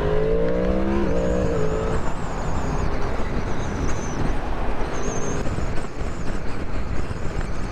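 A 2023 Yamaha MT-10 motorcycle accelerating on a test ride, a loud engine roar climbing through the revs with a gear shift early on, thick with wind rush, and no talking.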